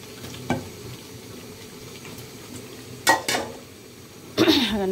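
Chicken frying in a pan with yogurt and chopped tomato for biryani. A steady low sizzle runs throughout, and a spoon scrapes and clatters against the pan in three sharp bursts.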